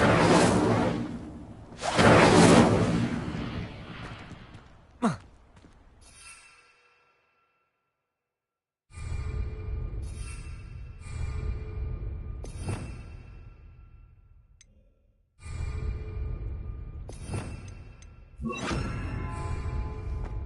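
Fire spell cast in Hogwarts Legacy: bursts of whooshing magical energy with a sharp crack near five seconds, then a silent gap, followed by sustained roaring swells of flame and game ambience.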